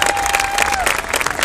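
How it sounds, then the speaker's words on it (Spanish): Applause from a crowd for a woman and a bear, a dense burst of clapping at close range, lively and loud across the whole short stretch, with a thin whistle-like tone briefly riding over it. "Un fuerte aplauso para Linda y para el oso"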